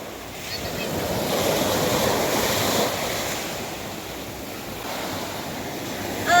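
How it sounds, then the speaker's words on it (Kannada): Sea waves break and wash ashore continuously at a beach near Malpe, with a broad, loud surf roar and wind buffeting the microphone. "ಇನ್ನೊಂದು ದೊಡ್ಡ ಅಲೆ ಬಂತು"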